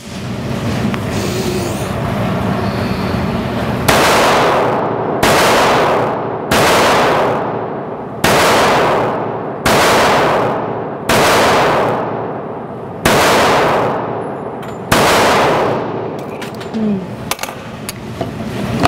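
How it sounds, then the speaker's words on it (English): A Springfield Loaded Operator 1911 pistol fired at a target at an outdoor range, eight loud, sharp gunshots spaced roughly one to two seconds apart, each ringing out with a decaying echo. "I pulled a shot because I started getting excited"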